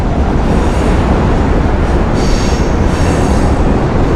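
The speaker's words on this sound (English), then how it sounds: "There's a train up there." A train rolls past overhead during urban fishing, a loud continuous roar of wheels on rails with faint high squeals, close and steady throughout with no voices.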